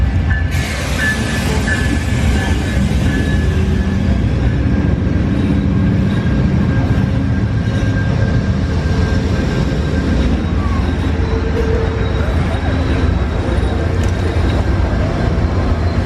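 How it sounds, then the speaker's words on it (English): A train arrives at a station, rumbling in loudly and steadily, a heavy low roar with squealing metallic tones and hiss, close by and sustained for the whole stretch. "here comes the train"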